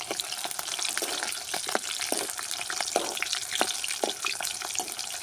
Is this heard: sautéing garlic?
yes